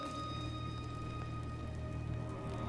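Steady rain patters evenly over a low constant hum in the video game God of War, a continuous soft hiss of drops with no voices.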